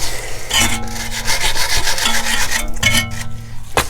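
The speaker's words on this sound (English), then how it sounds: "Just use your wire brush first. Just get rid of as much corrosion as possible." Wire brush scrubbed hard against a corroded CV joint on a VW Transporter, a steady rasping scrape with rhythmic strokes, close and loud throughout with no talking.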